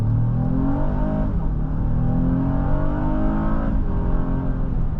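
A 2019 Acura MDX Sport Hybrid with dual-clutch transmission accelerating hard from inside the cabin, a loud steady engine drone climbing in pitch through the gears, no talking.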